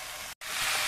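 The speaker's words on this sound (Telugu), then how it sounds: "ఇప్పుడు మనము కాకరకాయలు కోసుకున్న ముక్కలను వేసుకోవాలి వేసుకొని ఒక హాఫ్ అన్ అవర్ అట్లా ఉడికించుకోవాలి" Cut bitter gourd (karela) pieces sizzle and hiss steadily in a hot pan, a close, even broadband frying noise broken by one short silent gap.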